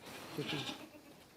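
Goats in a dark livestock barn bleat in a few short, close calls, with low rumbling background noise underneath.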